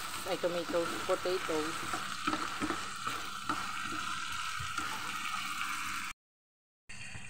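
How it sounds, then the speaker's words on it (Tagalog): Corned beef and small-diced potatoes being sautéed in a pan, a close, steady sizzle with occasional stirring clatter, and someone speaking briefly near the start before the sound cuts out for a moment. "So maggigisa po tayo ng corned beef with potatoes."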